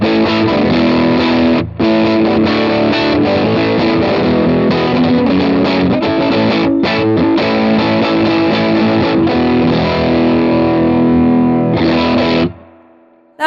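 Bass guitar played through overdrive with a boost engaged, a loud, dense distorted riff with a couple of brief gaps, running steadily for about twelve seconds before cutting off.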